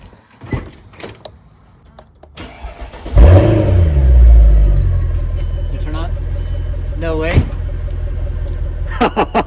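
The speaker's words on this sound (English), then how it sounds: "And now I'm gonna start up my car real quick, and Joe, you just keep it rolling" A 2005-2011 Mercedes CLS engine cranks and fires, settling into a steady low idle after a brief surge. Clicks and door sounds come before it, and people talk nearby.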